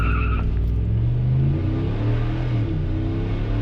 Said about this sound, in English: the truck even sounds different, and you can just hear the air just like sucking in